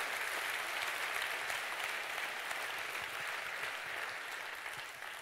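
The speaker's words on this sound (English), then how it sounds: "It's funny to see many advertisers clapping" Sustained audience applause fills a conference hall, dense and steady clapping from a crowd that runs for several seconds before gradually thinning out, with no voices over it.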